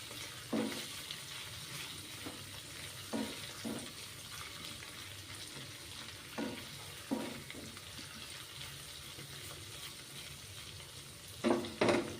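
Ginger and chili paste sizzling in hot oil over a medium gas flame: a soft, continuous crackle with occasional clicks and taps from stirring, fairly faint and without talk.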